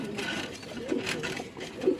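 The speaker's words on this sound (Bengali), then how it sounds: "এই যে মাদিটা একটু ডাকতেছে" A female pigeon gives soft, low coos, two faint throaty pulses about a second apart, close by in a quiet loft setting.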